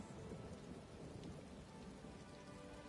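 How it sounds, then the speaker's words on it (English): Steady, dense rain from a thunderstorm in the Elder Scrolls Online game, a continuous loud hiss with low rumbling thunder rolling beneath it throughout, with no voices. "this storm worries me"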